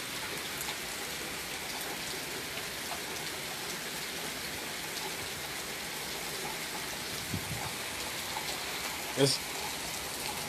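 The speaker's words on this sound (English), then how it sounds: "it's a rainy, stormy day, you know." Heavy rain falls on a stormy day as a steady, fairly faint hiss of drops in the background, with a brief spoken word over it.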